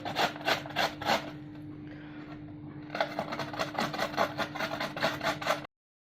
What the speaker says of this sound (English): You have to grate the onion.